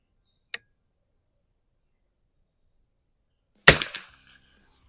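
A 1953 Soviet TO3-12 military trainer rifle fires at targets 50 yards out. A faint dry click comes first, then after a long silence one sharp, close crack with a short echoing tail.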